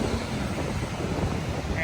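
A strong wind roars steadily and loudly by Manila Bay, bringing down coconut leaves, a dense, unbroken rush of noise with no pauses.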